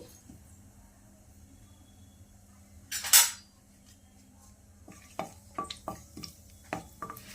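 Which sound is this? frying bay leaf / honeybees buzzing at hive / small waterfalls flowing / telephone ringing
frying bay leaf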